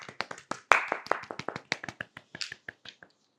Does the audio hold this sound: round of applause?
yes